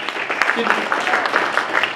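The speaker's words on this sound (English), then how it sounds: "One more round of applause for our panelists." A panel audience at a retro gaming event applauds, producing dense, steady clapping at moderate loudness with voices mixed in.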